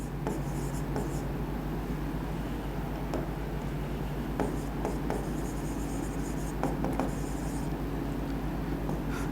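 A pen writing out a maths solution in a Class XII derivatives lesson, a quiet scratching and tapping on paper over a steady low hum, with no talk.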